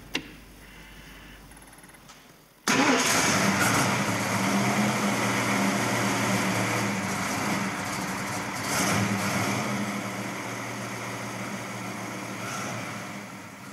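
A 1965 AC Cobra roadster's engine cranks and fires abruptly after a quiet moment, then settles into a loud, rumbling idle with a brief rev in the middle, close by.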